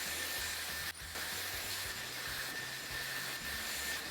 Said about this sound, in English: Okay, Dyson attachment for the hairdryer